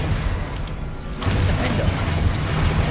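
The Bombarda explosion spell in a Harry Potter video game goes off as a sudden booming blast about a second in, followed by rumbling, crashing debris that stays loud to the end.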